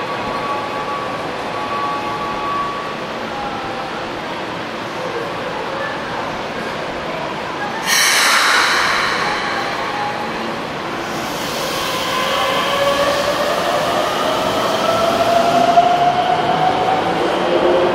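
Keisei 3050 series subway train pulling into Kuramae station on the Toei Asakusa Line, a steady rumble of wheels and motors building in the underground platform, with a sharp burst of brake hiss midway and rising motor whine near the end.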